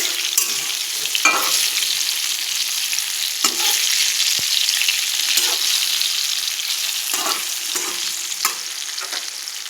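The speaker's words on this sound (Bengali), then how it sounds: "এই যে বেগুনগুলো ভাজা হয়ে গেছে।" Brinjal (eggplant) pieces frying in oil in a pan while a Bengali shukto meal is cooked, a steady close sizzle broken by repeated short stirring scrapes, with no talk.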